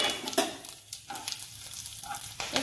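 Cumin, cardamom, cloves, cinnamon and a dried chilli frying in hot oil, a soft continuous sizzle with a few sharp crackles and a clink near the start and end.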